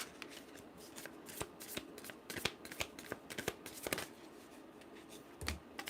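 Tarot cards being shuffled by hand, a close, crisp run of riffling and flicking bursts with irregular sharp snaps over about six seconds, no voices.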